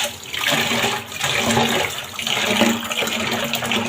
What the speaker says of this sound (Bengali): ডালটা ধুয়ে নিই